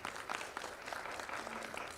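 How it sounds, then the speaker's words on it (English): An audience at an international conference claps briefly after a presentation, a faint, distant patter of scattered applause lasting about two seconds. "For the audience, please you give applause for her presentation."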